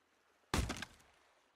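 Chopping wood in the survival video game Sunkenland: one loud, sharp thunk of a blow landing, a short decaying tail after it, and the start of a second strike at the very end.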